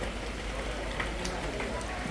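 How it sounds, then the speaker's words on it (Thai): Steady rain falls outdoors during a housewarming visit, a dense continuous hiss of drops with no pauses, moderately loud and alone. "บรรยากาศฝนก็ยังตกมาทั้งเศร้าเลยจ้ะ"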